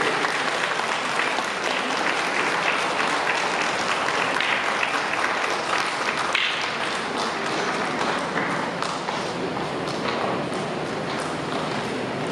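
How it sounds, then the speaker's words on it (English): An audience at a school event claps continuously as a guest walks to the stage, a dense, steady wash of many hands applauding at even loudness throughout. "Clapping should not be stopped until we reach the stage."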